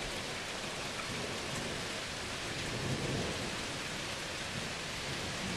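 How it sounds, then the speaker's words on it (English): A thunderstorm: a dense, steady hiss of rain with deep thunder rumbling underneath throughout, and no voices. "This entire video is a thunderstorm."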